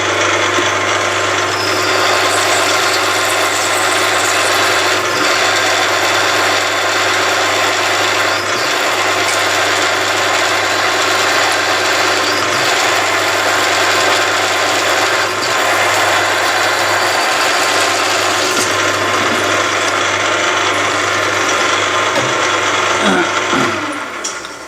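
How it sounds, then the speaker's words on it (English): A power drill whines continuously at a steady pitch, loud and close, grinding through metal of a CV joint with a constant hum underneath and no talking. "So that's all our primary drilling done."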